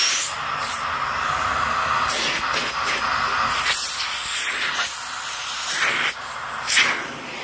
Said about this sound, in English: I'm sure you can all hear the suction relief valve kicking in.